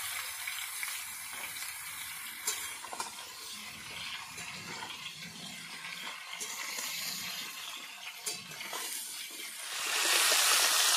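Washed taro leaves go into a pan of hot oil with split green chillies and chopped tomato, giving a soft continuous sizzle with stirring scrapes and a louder hiss surge near the end.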